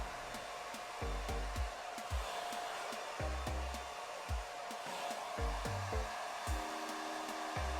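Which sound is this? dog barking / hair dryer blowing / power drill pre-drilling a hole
hair dryer blowing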